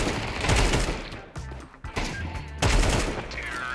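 Rapid bursts of gunfire from Counter-Strike 2, with sharp repeated shots and short pauses between volleys, loud and close in a competitive match.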